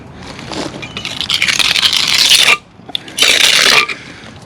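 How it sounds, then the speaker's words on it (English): A trowel drags across a fresh stucco patch in two long, loud, gritty scraping strokes with a short pause between them, heard up close. "I'm overfilling a little bit and then dragging some back out so I can make sure I fill all the gaps"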